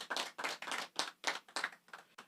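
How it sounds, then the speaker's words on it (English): A small group at an outdoor land handover ceremony in Basseterre claps in short, separate bursts. The applause is close and fairly faint, with brief gaps between the waves. "I just want to ask you to give yourself a round of applause,"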